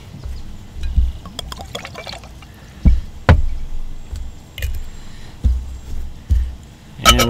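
Pineapple juice and chartreuse poured for a cocktail, soft close-up liquid pours and splashes in several short bursts separated by glassware clinks and handling knocks.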